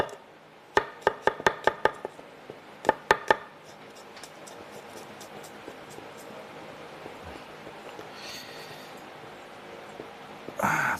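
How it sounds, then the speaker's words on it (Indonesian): Knife chopping food on a cutting board, a quick burst of sharp close taps followed by a second short run, then quiet room tone with faint rustling and a brief scrape at the end, no talking. "Kita cincang aja. Diiris boleh, dicincang boleh."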